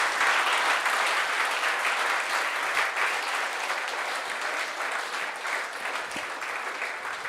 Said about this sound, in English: I want all of you to give a huge round of applause